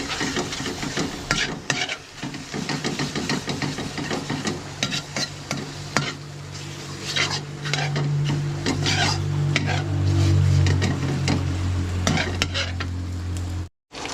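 Chicken fat frying in a pan to render its oil, heard as continuous close sizzling with repeated scraping strokes of a stirring utensil, loud and steady until it cuts off near the end.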